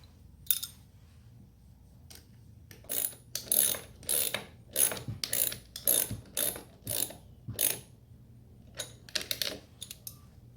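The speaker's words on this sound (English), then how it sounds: "I'm going to attach my nuts and bolts to it" Nuts and bolts being fastened onto an Active Imaging 3-in-1 transducer mount, a series of close, crisp ratcheting clicks in repeated short bursts with brief pauses between.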